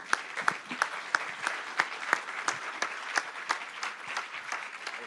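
Scattered applause for the Life in a Box team at the Futur en Seine Awards 2017 design prize ceremony, a modest audience clapping steadily with distinct individual claps standing out for about five seconds, no voices.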